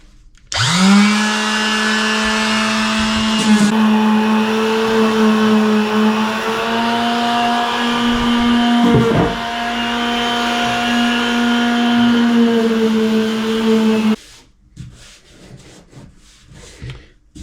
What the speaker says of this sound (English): is my cheap Wix sander.